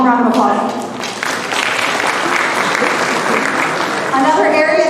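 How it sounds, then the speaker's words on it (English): Loud, steady applause from a gala audience fills the whole stretch, with a voice speaking over it at the start and again near the end. "One more round of applause."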